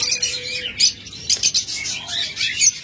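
A pair of cockatiels makes repeated bright chirps and short calls in quick bursts, close and fairly loud, with brief gaps between.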